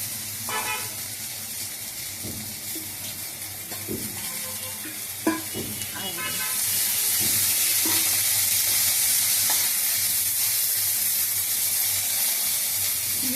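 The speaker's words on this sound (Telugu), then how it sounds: "ఇది ఇట్లా వేగుతుంది ఫ్రెండ్స్" Mint leaves fry in oil in a pan, a steady sizzle that swells louder partway through, with a few spatula stirs and scrapes near the start and no talking.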